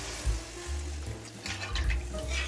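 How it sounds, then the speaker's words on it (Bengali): Water is poured into a cooked-down spice paste in a cooking pan, giving a loud, close, continuous rushing pour with a low gurgling rumble throughout. "জল দিয়ে দিচ্ছি।"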